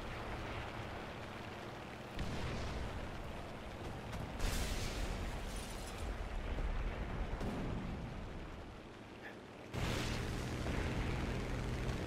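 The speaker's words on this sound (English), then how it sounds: "Good rocket strike on his part." Rocket strike explosions in War Thunder, heard as a heavy, rumbling roar of blasts and battle noise that swells and fades across about twelve seconds with a couple of sudden louder bursts.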